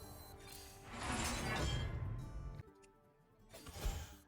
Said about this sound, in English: Hero Power, Shield Shatter.